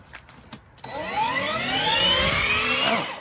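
Electric motor of a ride-on toy jeep whirring up to speed as its wheels spin freely in the air, a steady rising whine after a few brief clicks at the start.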